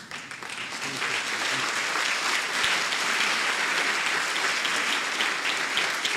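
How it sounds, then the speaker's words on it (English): A standing audience at a student council inauguration gives sustained, even applause, a dense roomful of clapping that builds quickly and holds at a steady level throughout. "I would now like to request that we all stand and give him a round of applause"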